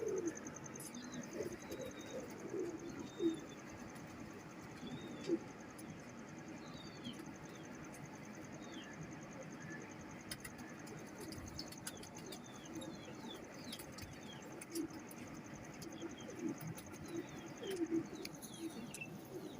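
Pigeons coo low and continuously in a soft, rolling drone, with faint chirps from other birds scattered over a steady background hiss.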